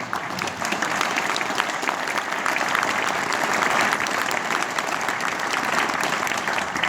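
Sustained audience applause fills a political meeting hall in Lannion, a dense steady wash of many hands clapping at even loudness throughout, with no voices standing out.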